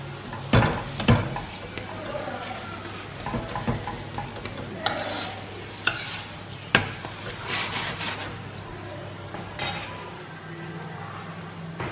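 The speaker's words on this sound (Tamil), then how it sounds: "ஸோ இந்த பராட்டா வந்து மீடியம் ஃப்ளேம்லேயே வச்சு குக் பண்ணுங்கள்." Radish paratha cooks on a pan over a medium flame with a low steady sizzle, broken by scraping, stirring and occasional clinks of utensils close by.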